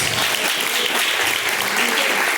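A church congregation claps in praise during a worship service, a loud, continuous roar of many hands with no pause, dense and close.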